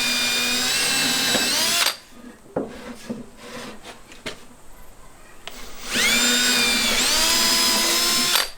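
A power drill whines loudly while boring pilot holes into a wood butcher block table frame, a near burst at the start, a pause filled with clattering handling noises, then a second long high-pitched run of the drill.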